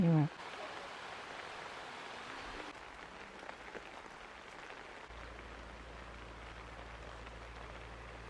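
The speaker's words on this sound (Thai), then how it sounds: "ตอนนี้ฝนเริ่มตกหนักแล้ว" Heavy rain falls in a village, a steady broad hiss of downpour that stays constant, with a brief loud bump at the start and a low hum joining later.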